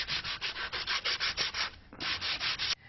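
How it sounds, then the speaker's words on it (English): Fine sandpaper rubs back and forth over mitered wooden frame edges in a brisk, regular rhythm of about a dozen close, raspy strokes, pausing once briefly before continuing. "fine sandpaper is sufficient to smooth off the rough edges"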